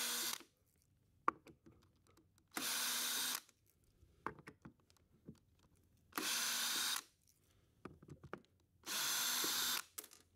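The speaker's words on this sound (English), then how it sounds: "Screwdriver." A cordless power screwdriver drives screws during a solar battery installation, with three loud whirring bursts of a second or so each, separated by quieter clicks and handling clatter at close range.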